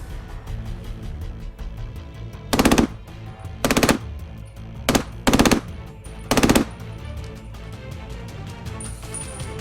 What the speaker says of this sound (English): I shoot in single, now it's going to be in full auto.